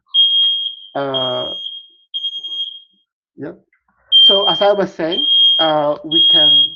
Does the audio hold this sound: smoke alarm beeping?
yes